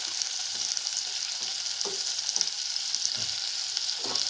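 Tomatoes sizzle in a hot pan for a drumstick leaf sambar, a steady loud crackling fry with soft periodic scrapes of stirring, no voices.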